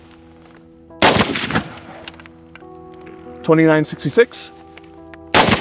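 Sharp rifle shots from the US Army's next-generation rifle crack out at the start and end, with a mid-clip burst between them, heard fairly close over a low steady hum while a voice speaks.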